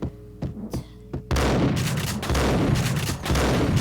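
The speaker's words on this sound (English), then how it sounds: "Let's try shotgun again." Shotgun blasts in Max Payne hit loud and heavy, a few sharp shots first, then a sustained roaring barrage of booming fire and impacts.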